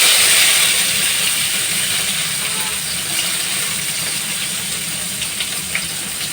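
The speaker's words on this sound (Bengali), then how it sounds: "উচ্ছেটা ভেজে নেব।" Bitter gourd frying in oil in a pan, a loud steady sizzling hiss that gradually eases, with occasional small pops.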